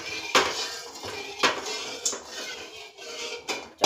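A spoon stirs melting ghee in a kadai, a metal pan, while making Gujarati khajur pak, giving soft intermittent scrapes and clinks against the metal at close range, with no talk.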